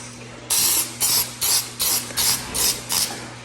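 Masking liquid H2O sprayed onto a wall ahead of wallpaper removal, seven short loud hissing bursts in an even rhythm from a nearby pump sprayer.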